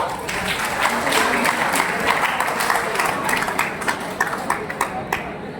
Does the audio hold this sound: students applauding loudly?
yes